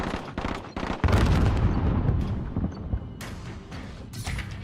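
Grenade blast in Call of Duty with a loud burst of gunfire and booming explosion noise, then scattered shots and fading rumble over a few seconds, no speech.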